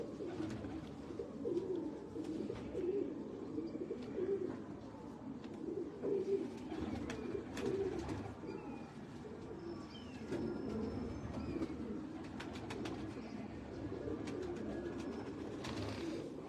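Pigeons coo repeatedly at a breeder's loft in Faisalabad, soft low rolling calls layered over one another, with occasional clicks and wing or cage noises in the background.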